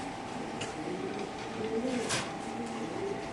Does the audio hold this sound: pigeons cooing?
yes